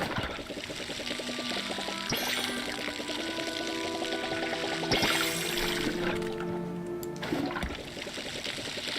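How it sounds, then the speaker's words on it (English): Crops being watered in the farming game Palia, a pouring, splashing stream of water that runs steadily for several seconds alongside light background game music, with soft trickles as it tapers off. "I'm just gonna water it for now"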